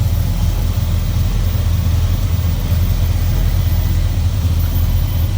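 A 1964 Oldsmobile Jetstar 88 with a Jetfire Rocket V8 and Weber 4-barrel carburetor runs at a steady idle, a continuous low rumble close by with no talking.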